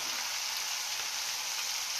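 A steady, dense sizzle of oil frying in a small home kitchen pan while spinach and potato are cooked, continuous and close with no talking.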